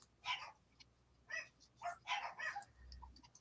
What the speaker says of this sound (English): Yeah, a good old yap, aren't they?